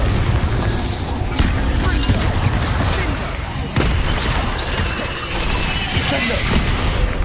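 Confringo fire blast spells bursting repeatedly in Hogwarts Legacy, a loud, dense barrage of fiery booms and crashes with sharp hits layered over continuous combat noise, with a voice talking throughout.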